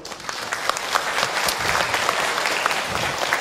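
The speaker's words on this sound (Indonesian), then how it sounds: "boleh tepuk tangan untuk Ahilman Ibu." An audience at an Islamic religious lecture breaks into dense, sustained applause, loud and even throughout with no pauses.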